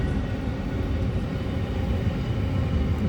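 A fairground toy train ride at the Siddhpur fair rolls in with a steady, continuous mechanical rumble and clatter that holds an even level throughout, with no voices over it.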